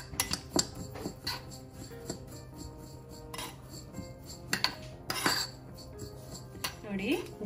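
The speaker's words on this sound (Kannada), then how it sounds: "ನೆಕ್ಸ್ಟ್ ನಾನು ಜೀರಾ ಹುರ್ಕೋತೀನಿ." Cumin seeds are dry-roasted in a metal pan for a homemade oil. A spatula makes irregular light clinks, taps and scrapes against the pan, with a few louder knocks.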